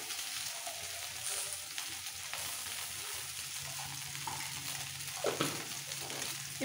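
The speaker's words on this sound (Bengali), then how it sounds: "এবার একটু ভাজবো" Kharkol leaves with spices, a little salt and turmeric sizzle and fry in a pan, a steady moderate crackle with occasional stirring scrapes, heard close and without talk.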